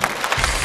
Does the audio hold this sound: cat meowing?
no